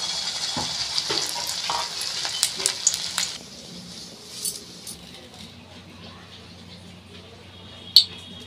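Water lily flower fritters sizzle in mustard oil, a bright crackling hiss that is busy for the first few seconds, then settles into a quieter steady fry with a sharp clink near the end.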